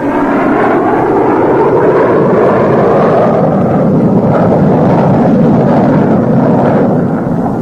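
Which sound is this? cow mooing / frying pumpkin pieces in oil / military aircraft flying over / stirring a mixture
military aircraft flying over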